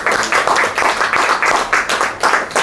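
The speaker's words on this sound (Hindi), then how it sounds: "तो अपने आप के लिए ताली तो बजाओ थोड़ा जोर से।" A church congregation applauding together indoors, dense rhythmic clapping in steady pulses, loud and close, with no talk over it.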